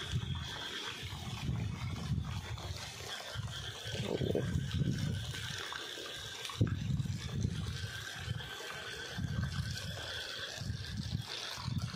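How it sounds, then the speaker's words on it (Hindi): Steady rushing rainwater flowing fast, a dense low roar that swells and dips without pause, heard from close by with no talking. "वो देखिए गाइस कितनी तेज पानी है आ रहा"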